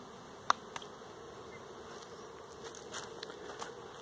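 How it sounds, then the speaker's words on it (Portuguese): Bees swarm densely over honeycomb frames in a hive being split into nucleus colonies, a continuous close buzzing drone with a few sharp clicks and taps from handling the equipment. "Os favos estão tomados por abelhas."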